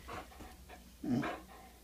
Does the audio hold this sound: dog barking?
yes